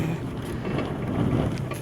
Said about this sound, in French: On entend bien le vent qui souffle.